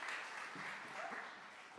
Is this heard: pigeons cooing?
no